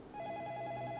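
A telephone rings with a steady repeating electronic tone that holds for the whole second, loud and unbroken, over a low background hum.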